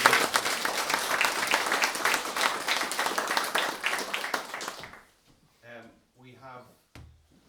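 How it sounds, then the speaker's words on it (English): Audience applause fills a hospital launch event room, dense and steady for about five seconds before fading out, followed by someone speaking briefly. "Can you give a huge round of applause to all our speakers and everybody?"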